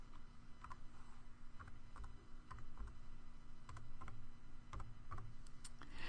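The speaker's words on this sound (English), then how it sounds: "So I'm going to once again type in" Light, scattered keystrokes from typing on a computer keyboard, entering a date into a reporting program; faint, irregular clicks over a steady low background hum, with no voices.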